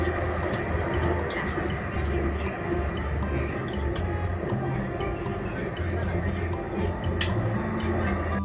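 Airport-to-Jerusalem passenger train running at speed, a steady loud rumble and rattle of the carriage throughout, with a murmur of passengers and a voice speaking over it.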